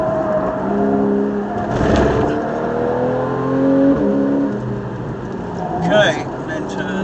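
A race car on track at Silverstone slows and turns in, its engine note dropping and shifting under a driving instructor's steady spoken coaching, with brief revving rises.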